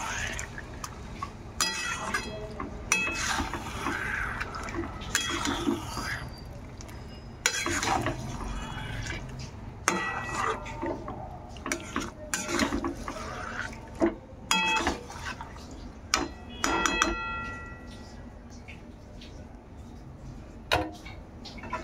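Chicken masala frying in a pan while being stirred, with irregular metallic clinks and scrapes of the utensil over a low sizzling hiss, close and moderately loud.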